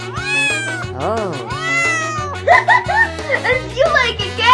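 A voice imitates a cat, giving a string of drawn-out, rising and falling meows close to the microphone, loud and clear, followed by quicker, chirpy mews mixed with giggling.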